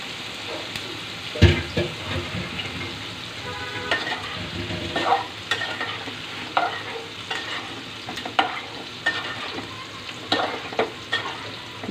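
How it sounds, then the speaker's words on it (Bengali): Snakehead fish sizzles and fries in spice paste in a pan, with steady crackling and clattering stirs of a spatula throughout, close and moderately loud. "মাছটাকে ভালো করে কষিয়ে নিব"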